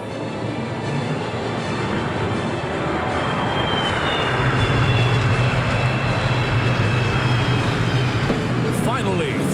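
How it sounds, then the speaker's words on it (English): An F-15 fighter jet performs a vertical climb at the Singapore National Day Parade, a loud sustained engine roar that swells and stays heavy across the whole span, heard outdoors from the crowd with no talk over it. "Presenting the F-15 Vertical Climb."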